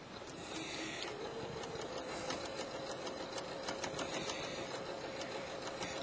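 A sewing machine runs steadily while top stitching rows on fabric with an open toe embroidery foot, giving a fast, even mechanical whir with light rhythmic ticking throughout.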